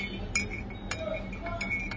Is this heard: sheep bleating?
no